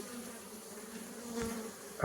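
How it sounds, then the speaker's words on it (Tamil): Honey bees crawl over a frame lifted from a hive, giving a faint, steady insect hum throughout with a soft rustle near the end. "அது மேலே தான் வந்து தேனீக்கள் வந்து ஏறிக்கிட்டு இருக்கு"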